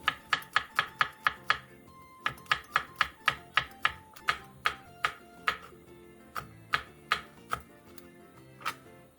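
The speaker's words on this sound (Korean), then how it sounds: "대파 2분의 1개, 청양고추 1개, 홍고추 2분의 1개를 쫑쫑 썰어주세요" A knife finely chops green onion, Cheongyang chili and red chili on a cutting board. Brisk, evenly spaced strokes come close and loud in rapid runs, with short pauses between them and no talking.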